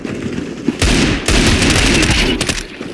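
Rapid, loud bursts of gunfire in the Counter-Strike video game, a dense volley of shots that cuts in abruptly and rattles on for about two seconds before tapering off.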